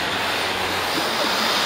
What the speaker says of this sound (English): The Parrot AR.Drone,